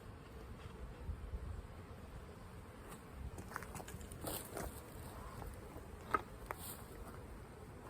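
Honey bees hum through an open hive during a spring colony inspection, a steady, fairly faint drone with a few scattered soft knocks and handling noises.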